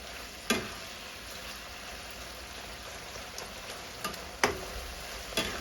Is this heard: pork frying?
yes